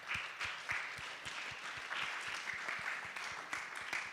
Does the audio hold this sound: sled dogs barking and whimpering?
no